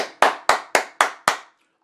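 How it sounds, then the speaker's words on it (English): Six sharp hand claps in an even, quick rhythm, close and loud, each with a brief decay, then silence. "I want to applaud you."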